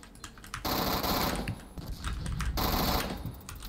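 An automatic pistol in the Roblox game Phantom Forces fires in two rapid bursts of fast, rattling shots separated by a short pause, crisp and close with no talk.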